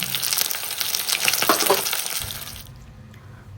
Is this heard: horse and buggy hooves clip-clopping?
no